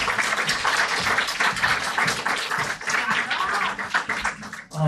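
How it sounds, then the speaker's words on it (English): Audience at a live comedy show on Culture Night clapping loudly and continuously, a dense crackle of many hands close by, fading slightly toward the end. "Round of applause, Danny Cullen, please."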